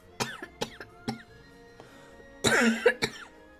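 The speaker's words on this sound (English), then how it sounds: "Someday I will stop coughing, but that day is not today." One person coughs repeatedly at close range while playing Monster Hunter World: Iceborne: three sharp coughs, a pause, then a harsher, longer burst with throat clearing and a final cough.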